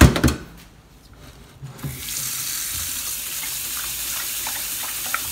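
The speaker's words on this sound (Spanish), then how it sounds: "Le vamos a echar agüita." Water pours into a cooking pot for a batch of menudo, starting with a few knocks and splashes, then turning into a steady, close rushing flow that keeps going to the end.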